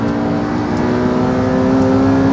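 A McLaren P1 and a Porsche 918 Spyder, the 918 four-wheel drive, launch hard against a Ducati 1199 Superleggera, giving a loud, steady engine roar and whine that holds without a break, with no voices.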